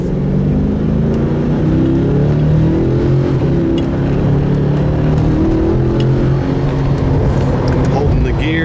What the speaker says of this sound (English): You can hear it gearing down, shifting all over.